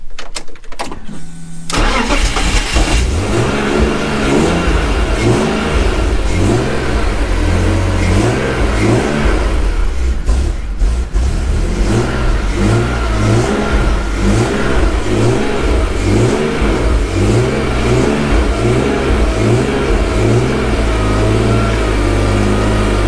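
A BMW 328 Ci E46 drift car with aftermarket engine management and an automatic gearbox cranks, fires up and settles into a loud, pulsing idle with rhythmic blips of revving, heard close and with no voices.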